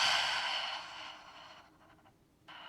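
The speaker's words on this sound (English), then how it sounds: "we're gonna inhale through the belly and then exhale out through the mouth" A slow, soft exhale out through the mouth during a Pilates core exercise, breathy and airy, fading over a couple of seconds, with a faint second breath at the end.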